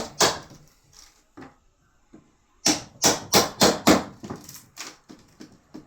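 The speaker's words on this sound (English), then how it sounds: "Keeping the chisel behind and just using that as a bit of leverage." A chisel levering apart a wooden sash window, producing a string of sharp, close wooden knocks and cracks, a few scattered at first, then a quick run of loud snaps.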